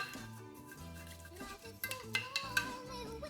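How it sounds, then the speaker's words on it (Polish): A spoon clinks and scrapes against a bowl while oat flakes are stirred into a fit dessert mixture, with faint light taps growing sharper near the end over soft background music. "Wsypujemy płatki i w całość mieszamy"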